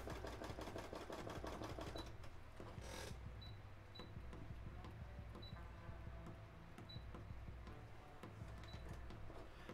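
Sewing machine running steadily at its slower stitching speed, a continuous rhythmic mechanical chatter with faint periodic clicks, close and alone without talk.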